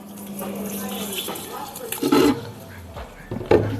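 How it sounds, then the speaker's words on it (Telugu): Water runs and splashes while aquarium contents are rinsed during fish tank cleaning, with louder splashy bursts near the middle and end, heard close up and mixed with a faint background voice. "రెండోసారి కూడా సేమ్ ప్రాసెస్ ఇలానే కడుక్కొని వేసుకుందాము"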